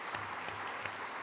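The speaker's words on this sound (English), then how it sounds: "Give me a round of applause for Kyle" Audience applause at a talk by a former Supreme Allied Commander Europe, a brief steady burst of dense clapping from a room full of listeners.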